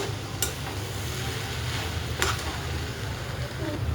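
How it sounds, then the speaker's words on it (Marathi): Soybean chunks fry in oil with onion, tomato, ginger, garlic and curry leaves for a keema, giving a steady low sizzle. Two sharp spoon scrapes against the pan stand out, and there is no talk. "कांदा आणि टमॅटो, अद्रक लसूण, कढीपत्ता मध्ये सोयाबीन छान असं भाजून घेते तेलामध्ये"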